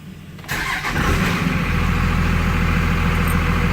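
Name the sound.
2001 Dodge Ram 5.9L diesel engine starting and idling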